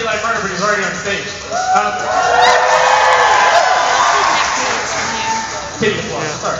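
A college audience at Oberlin claps, cheers and whoops loudly for a martial arts performance. The applause builds and holds as a dense crowd roar over a few seconds, and a voice talks through it.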